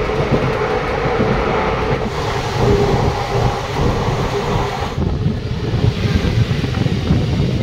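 Black Diamond Express running steadily after leaving Bandel Junction, a loud continuous rumble with rhythmic clickety-clack of wheels on rail joints throughout, heard from aboard the train.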